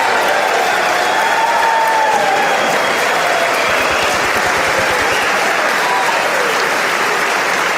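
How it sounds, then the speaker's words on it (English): Dense crowd cheering and applause fills a legislative chamber during an electoral vote count, loud and sustained throughout with steady clapping and raised voices. "they're really cheering in front of her face there"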